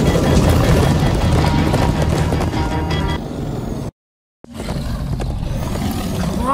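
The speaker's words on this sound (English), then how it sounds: "Come on, horses!" Horses gallop in the Minecraft Story Mode video game, a loud, steady hoof rumble with rushing roar that drops out briefly to silence before resuming, close and without speech.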